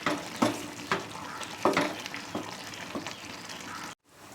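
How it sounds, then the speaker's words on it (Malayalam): Mutton biryani rice, with lemon juice and rose water just added, stirred in a pot: a run of scraping, shuffling strokes at an uneven rhythm, close and moderately loud, cutting off abruptly near the end. "ഇനി ഇതൊന്ന് നന്നായി മിക്സ് ചെയ്യണം"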